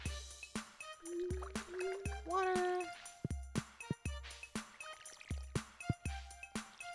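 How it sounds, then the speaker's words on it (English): In the Stardew Valley video game, a watering can sprinkles melon crops, a string of short, evenly spaced splashy watering sounds repeating over a tonal game background. "We gotta water our melons first."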